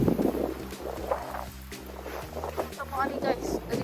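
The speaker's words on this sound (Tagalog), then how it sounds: "Kuan pa ni kanang hangin lang ni siya. Grabe ka hangin." Strong wind gusts roar steadily during a snow blizzard, loud and close with buffeting microphone noise, while people talk over it throughout.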